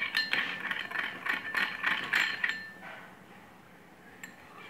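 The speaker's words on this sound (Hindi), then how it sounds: "उसमें आप एक चम्मच हनी ऐड कर लें और अच्छे से इसको मिक्स कर लें" A spoon clinks and scrapes in a small bowl while stirring chopped onion with honey, a quick run of light metallic taps that fades to near silence, heard close and fairly quiet.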